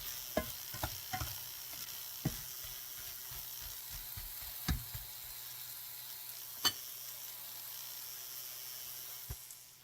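Okra cooking in a cast iron pan, a faint continuous sizzle broken by a cluster of sharp stirring scrapes and taps early on, then a few isolated clicks over the hiss.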